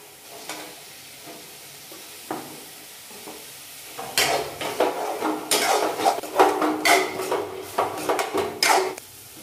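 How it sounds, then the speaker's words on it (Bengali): Chopped tomatoes go into a pan of cooked mustard and poppy-seed masala for fish curry. After a quiet start, loud sizzling breaks out, with repeated scraping and stirring against the pan and no voices. "এখন এর মধ্যে কেটে রাখা টমেটোগুলো দিয়ে দেবো"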